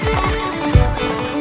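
A horse in a period drama scene gallops with quick rhythmic hoofbeats, then lets out a short neigh partway through, close and clear over a faint musical score.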